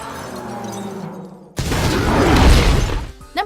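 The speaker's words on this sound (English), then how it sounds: "Masrani is unable to control the chopper, smashing through the glass ceiling to an explosive demise" A helicopter smashes through a glass ceiling in a Jurassic World film scene: a rumbling hum stops abruptly and gives way to a sudden loud crash of shattering glass and debris that rolls on for a couple of seconds.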